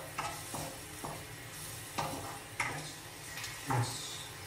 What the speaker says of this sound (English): Need to keep stirring.